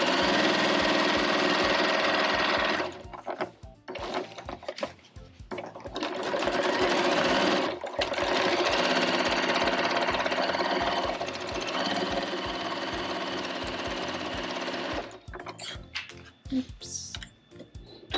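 A sewing machine stitches a quarter-inch seam through old quilt fabric, running loud and steady in long bursts with brief pauses between, close up and without talk.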